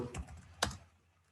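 Keywords typed on a computer keyboard: a few quick close key clicks, then one sharper louder tap before it falls quiet, with no talking.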